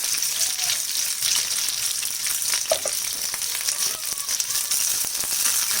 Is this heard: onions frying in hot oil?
yes